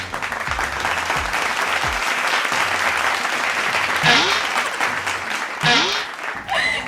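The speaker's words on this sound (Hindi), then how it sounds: "तालियां।" Applause greets an award announcement in a TV family drama, a busy burst of clapping with a few louder close claps and brief voices breaking through near the end.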